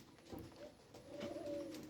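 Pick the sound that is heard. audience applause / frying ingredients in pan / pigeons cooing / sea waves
pigeons cooing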